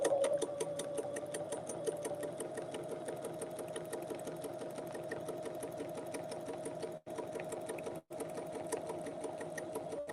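A sewing machine stitches quilting ruler work on a mandala design, a rapid, even mechanical chatter with a steady hum, close and continuous, briefly stopping twice near the end before resuming.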